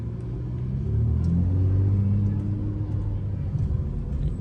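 A Chrysler 300 driving at night gives a low rumbling exhaust drone that swells as it accelerates, with faint crackles popping through near the end.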